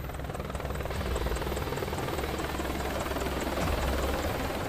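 Apache attack helicopter flying, a steady loud rotor and engine roar with a continuous whine, sustained throughout without any voices.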